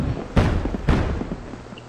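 Fireworks in the Guild Wars 2 video game, set during a festival: two sharp booming bursts about half a second apart, followed by a lower rumbling crackle in the background.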